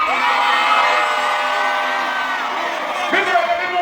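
Dense, sustained screaming and cheering from a big arena crowd of girls at a dancehall concert in Toronto, loud and unbroken with music underneath and a brief shouted peak near the end.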